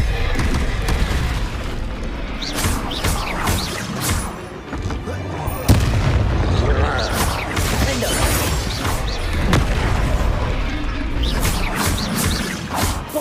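Bombarda blasting spell cast in Hogwarts Legacy, a run of loud booming explosions and crashing impacts that go on nearly nonstop, dense and close, with a voice heard faintly in the mix.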